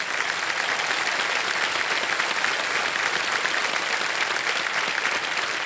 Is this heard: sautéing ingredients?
no